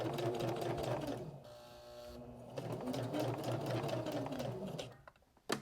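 A sewing machine stitches a denim keychain in circles, running in a steady close whir for several seconds with a brief slowdown partway, then stopping near the end.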